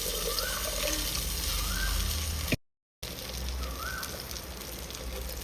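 Dissolved liquid pours into a lake fish curry in a home kitchen, a continuous splashing trickle broken by one short gap before resuming.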